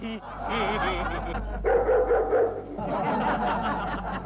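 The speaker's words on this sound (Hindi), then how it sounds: "ये भौंकने की आवाज कहाँ से आई?" A pet dog barks and yips close by in a sitcom household, with short excited bursts that mix with lively voices talking over them.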